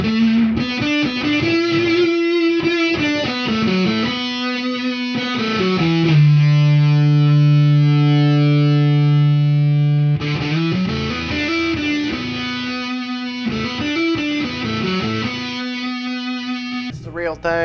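Electric guitar run through a real distortion effects pedal plays a gritty, saturated riff with a long sustained chord in the middle, loud and close with no talking.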